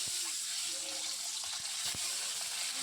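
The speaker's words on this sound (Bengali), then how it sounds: "ডিমগুলোকে ভেজে নিলাম।" Eggs fry in a pan with a loud, continuous sizzle, joined now and then by faint scraping and knocking.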